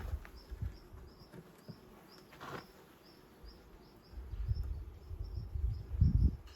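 Soft, steady buzzing of honeybees at an open hive during a frame inspection, with a few louder swells as bees pass close by; no talking.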